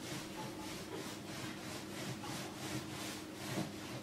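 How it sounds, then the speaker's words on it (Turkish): Pastry dough for croissants is rolled out on a floured table, giving soft, rhythmic back-and-forth rubbing strokes, faint and continuous with no talk. "Mümkün olduğunca böyle uzunlamasını açacağız"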